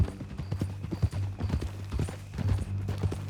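Horse hooves clip-clop in a steady walking rhythm in the video game Red Dead Redemption 2, close and moderately loud, with faint ambient game sound beneath.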